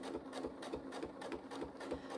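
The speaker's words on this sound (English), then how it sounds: "I'm going to come back down and just stitch those in nicely" Sewing machine doing free-motion couching stitches; a fast, steady mechanical chatter of needle strokes with a regular pulse, close and moderately quiet, no talking.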